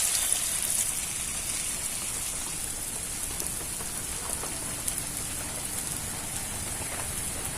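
Battered pakoras frying in hot oil give a steady, close, dense crackling hiss with fine bubbly texture that runs evenly throughout, with no talking.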